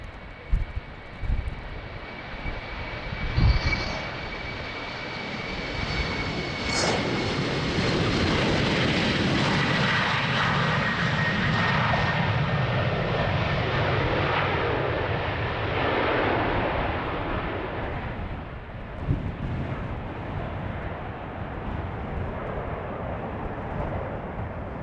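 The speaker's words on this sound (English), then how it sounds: "the Embraer from LOT is on the go" A LOT Embraer jet taking off from runway 36L at Amsterdam Schiphol on a windy day, its engine roar swelling loudly to a sustained peak, then slowly fading into the distance.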